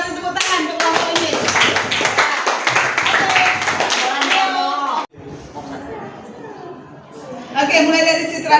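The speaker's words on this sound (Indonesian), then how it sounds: "kita beri tepuk tangan untuk kelompok ini" A classroom of children claps for a student group, a dense burst of hand clapping lasting several seconds, then quieter chatter and talk before voices return.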